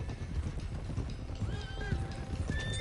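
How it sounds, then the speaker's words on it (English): Horses in Red Dead Redemption 2 gallop with steady clip-clop hoofbeats while one neighs and whinnies in rising, drawn-out calls, loud and close over continuous game ambience. "One of the stallions is loose."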